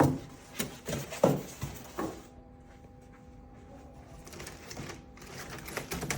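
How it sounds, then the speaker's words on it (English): Top styrofoam packing is pulled from an Epson A4 printer box, giving close squeaky rubbing and scraping in two bursts separated by a quieter stretch of faint handling. "Remove the top styrofoam."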